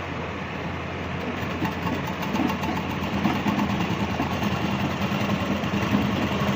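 A sewing machine stitching a blouse runs without a break, giving a loud, close, dense mechanical whir that holds steady throughout. No voices are heard.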